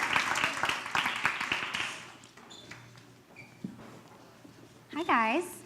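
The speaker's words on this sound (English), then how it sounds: "give them a round of applause" Applause as panelists are welcomed to the stage: a couple of seconds of moderately loud, crowded clapping that fades out, followed by quieter scattered sounds and voices.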